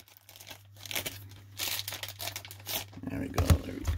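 Tape ripped and peeled off a team bag of trading cards, a run of crinkly tearing and rustling textures at close range, fairly quiet, continuing for a few seconds with faint handling noise.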